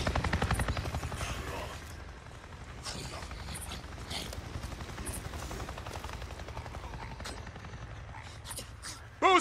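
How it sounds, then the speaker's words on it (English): Helicopter from the video game Days Gone passes low overhead, its rapid rotor thumping loudest at the start and then fading into a steady drone, with brief gunfire-like bursts and a sharp sound at the end. "A Nero chopper! It just buzzed right over me."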